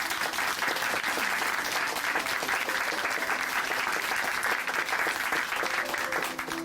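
Applause from the congregation of Hanmaum Church in Chuncheon, thanking a speaker after a testimony: a sustained, even wash of many hands clapping, moderately loud and continuing alone without a break.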